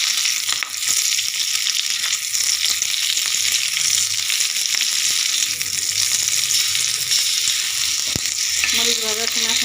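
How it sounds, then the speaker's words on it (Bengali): Green chillies fry in oil in a pan while a coriander-leaf bhorta is being made, a loud, steady close-up sizzle with scattered sharp crackles throughout and no voices. "কাঁচামরিচটাকে আমি তেল দিয়ে ভেজে নেব।"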